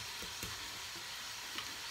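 Chopped onions and tomatoes fry in a pan with a soft, continuous sizzle and a few faint stirring clicks, quiet and close with no talking.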